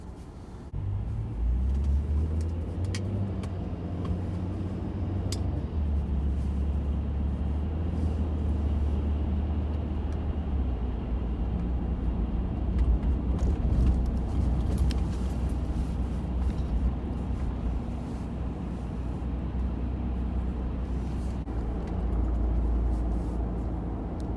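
A car cruises along Hastings Street in Vancouver early in the morning, its low engine and road rumble steady and fairly quiet from inside the cabin, with light passing traffic noise.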